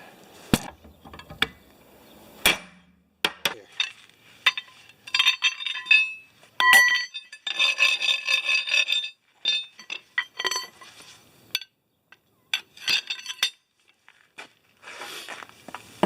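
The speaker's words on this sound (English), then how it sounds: "So I'm going to take a chisel and chop at it." A chisel chopping at a tractor wheel fitted to a snowblower, giving sharp metallic clinks and knocks in irregular bursts, some ringing clusters and scraping between strikes, close and moderately loud with no speech.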